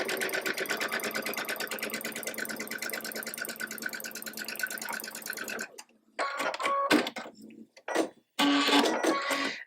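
A sewing machine runs in a steady continuous burr while stitching a leaf appliqué onto a quilt block, then stops and gives way to a few short, separate bursts of stitching near the end.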